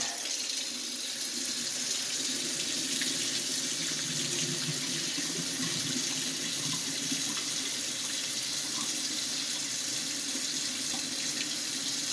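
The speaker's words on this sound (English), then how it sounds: "Put on some water to help it go down." Tap water runs steadily into a pan of cooked ground beef being drained, a continuous close splashing and hissing stream with no pauses.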